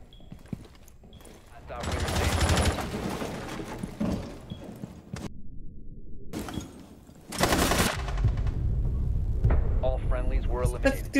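Video game gunfire punches through a wall in loud, dense bursts, with a brief quiet gap midway before another heavy volley. Voices talk over the shooting, and the game's own sounds play underneath.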